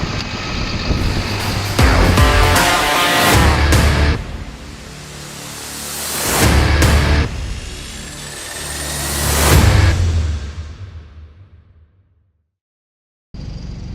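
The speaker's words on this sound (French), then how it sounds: "Le tracteur il gratte pas, ça va nickel." A heavy tractor engine rumbles and labours on a slope, its drone rising and falling in three strong surges before dying away, then briefly returning.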